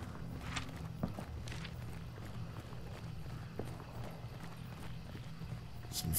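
Horse hooves clip-clop at a steady walking pace in the video game Hunt: Showdown during a nighttime bounty hunt, faint and somewhat distant over a low ambient rumble, with a soft noise near the end.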